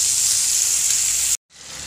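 Ginger garlic paste dropped into hot oil with onions and salt, giving a loud, steady sizzling hiss that cuts out abruptly, then resumes.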